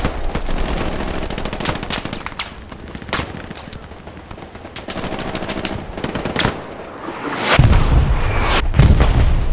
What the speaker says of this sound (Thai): มันเอาปืนใหญ่ลงตรงเรา